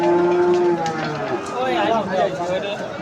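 A Friesian bull at the Ambari cattle market gives a long, loud, close moo, followed by lowing and the chatter of a market crowd and nearby voices.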